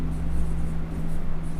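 Marker or chalk scratching on a board while something is written, a soft scratchy rubbing over a strong low steady hum, close with no talking.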